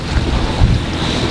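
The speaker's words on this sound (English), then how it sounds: "Now it's blowing about 20 to 25 knots of wind, gusting up to 25 knots." Strong wind of about 20 to 25 knots blows over a sailboat at sea, a loud steady roar with gusty buffeting against the microphone and water washing beneath.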